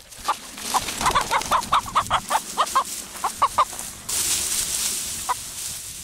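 A chicken hidden in bushes clucks in a quick, uneven series of sharp calls, fairly close, followed by a burst of rustling brush and one last cluck.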